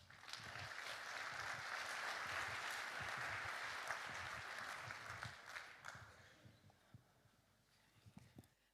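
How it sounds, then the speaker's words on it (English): An audience at a conference opening ceremony applauds in a dense, sustained burst of clapping that swells early, holds, then thins out into scattered claps near the end. "Round of applause."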